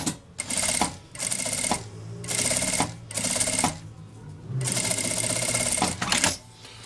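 A sewing machine stitches a seam along the bottom of a zipper on a small pocket for a travel vanity case, running in several loud, rapid bursts separated by brief pauses.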